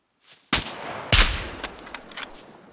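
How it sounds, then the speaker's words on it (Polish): Gunfire in the online survival game SCUM: two loud, sharp shots a little over half a second apart, each trailing into an echoing tail. Several fainter pops follow in the distance. "Strzały słyszę."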